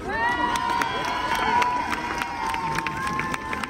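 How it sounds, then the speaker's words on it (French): A crowd at a rally supporting Gisèle Pélicot and rape victims cheers and shouts loudly, with scattered claps and whistle-like calls rising over a steady, dense wall of voices. "veuillez faire un tonnerre d'applaudissements à Camille Kouchner"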